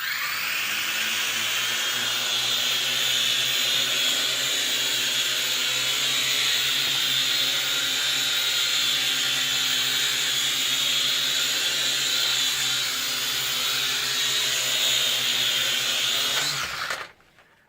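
A Syma X5C 2.4G quadcopter with modified, lightened blades runs up to power on a tabletop, its motors and props giving a loud, steady high-pitched whine that holds unbroken for about sixteen seconds before cutting off abruptly.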